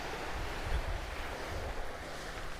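Small-beach ocean waves at Camp Cove in Sydney wash in as a steady, low broadband roar, with wind buffeting the microphone throughout and no voices.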